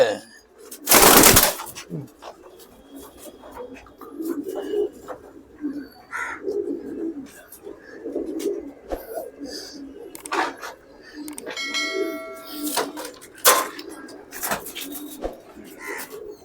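Pigeons at a large loft kept by an elderly breeder, soft intermittent cooing and bird calls under nearby conversation, with a loud rustle or flap near the start and scattered handling noises.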